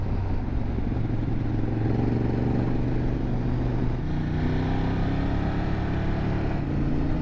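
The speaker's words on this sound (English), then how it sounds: "Ducati sounded great." Ducati motorcycle engine riding along a road, a steady droning rumble heard throughout from on the bike with a slight pitch shift midway and no voices.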